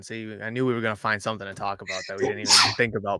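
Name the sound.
sneeze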